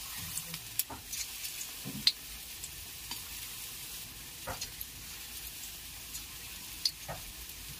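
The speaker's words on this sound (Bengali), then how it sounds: "সাদা তেল, তেল গরম হয়ে গেলে এতে আমি একে একে চিকেনগুলোকে ভেজে নেব।" Chicken pieces fry in hot white oil, giving a faint, steady sizzle broken by occasional soft clicks and stirring noises, with no talking.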